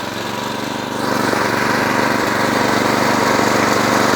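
A John Deere 826 snowblower engine runs steadily just after a choke start, a loud, continuous close-up drone with a fast, even rhythm that climbs slightly in level after the first second.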